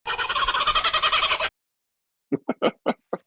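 A played kookaburra call opening a card-game tournament event: a dense, steady, loud cackling burst for about a second and a half, then after a short pause several separate laughing hoots.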